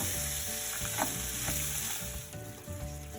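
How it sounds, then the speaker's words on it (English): A corn mixture sizzles loudly in extra virgin olive oil in a pan while being stirred, with constant crackling and repeated scraping strokes, no talk over it. "Add about 2 tablespoons of extra virgin olive oil to our pan, and then in goes the corn mixture."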